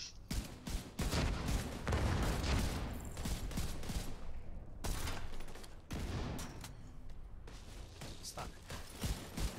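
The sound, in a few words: gunfire from a video game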